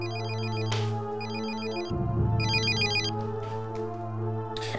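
Telephone ringing in a German multimedia game show segment, bursts of a bright electronic warble in a repeating pattern over a steady low hum. No voices.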